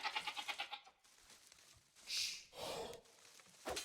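Sheep in the video game Age of Empires II bleat several times. A rapid wavering bleat opens, and shorter calls follow at moderate volume over quiet game ambience.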